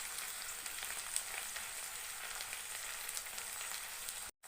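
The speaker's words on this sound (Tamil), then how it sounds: "சேர்த்து நல்லா வதக்கிக்கலாம்." Onion, tomato and capsicum sauté in a pan for egg chilli, giving a steady, close frying sizzle with small crackles throughout and no talking, cut off briefly near the end.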